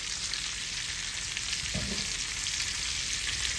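Onions go into potatoes frying in a pan, a dense, steady sizzle close by with a brief scrape of stirring in the middle.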